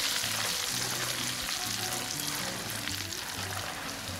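Jackfruit chips fry in coconut oil with a continuous loud sizzle, and stirring adds faint scraping and bubbling, all close up with no voices.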